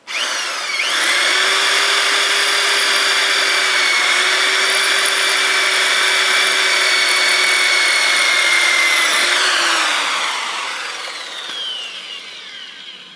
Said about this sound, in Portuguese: Centraliza a broca.